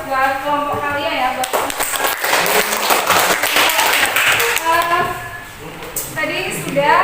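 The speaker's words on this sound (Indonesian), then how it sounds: "beri aplaus buat kelompok kalian ya" A group of students in a sociology classroom claps for their classmates after a presentation: a few seconds of dense, rapid hand clapping, framed by a voice talking before and after it.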